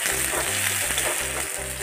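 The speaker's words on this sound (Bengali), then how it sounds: "তারপর পেঁয়াজ কুচিগুলো দিয়ে দিলাম।" Chopped onions frying in a little oil with bay leaf, cardamom and cinnamon, a steady close sizzle with rhythmic low scraping as the pan is stirred.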